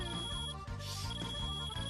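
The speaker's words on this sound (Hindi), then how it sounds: "ये बकवास रिंगटोन है। तेरे बाप का फोन है, उठा" A phone ringtone rings loud and steady for two seconds, a bright sustained electronic tone with a busy melodic backing and no talk over it.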